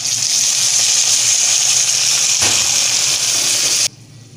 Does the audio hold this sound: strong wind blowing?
no